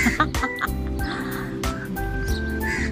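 Chickens or roosters clucking and calling outdoors, several short overlapping calls close by over steady low background noise.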